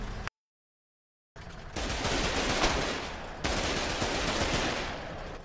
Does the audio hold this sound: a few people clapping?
no